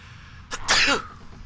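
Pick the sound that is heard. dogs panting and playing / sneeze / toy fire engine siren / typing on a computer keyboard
sneeze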